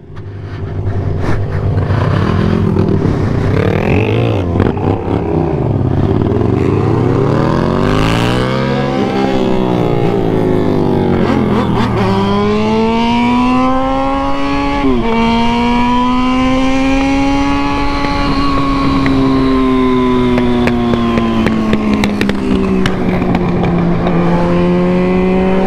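A Yamaha XJ6 motorcycle with a straight-pipe exhaust revs hard and loud up close, climbing and falling through repeated sweeping pulls with a raw, open drone between them.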